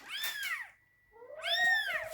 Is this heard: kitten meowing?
yes